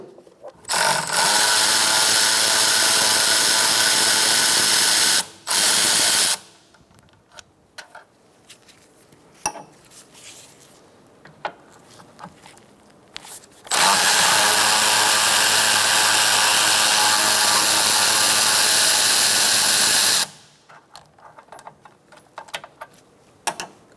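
A ratchet with a 10mm socket removes bolts from the radiator of a 2014-2019 Kia Soul 1.6L four-cylinder, giving two loud, sustained bursts of rapid clicking separated by quieter handling noises.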